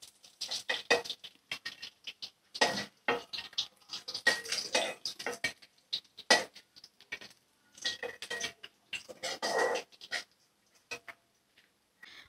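Fried fish is lifted piece by piece out of a wok: intermittent close scraping, tapping and light clattering of a utensil against metal, in irregular bursts with quiet gaps between.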